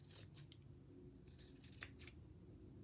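Small scissors snip across the fabric-like beard of a wooden gnome earring, a few crisp, close cuts clustered in quick succession with quiet gaps between them.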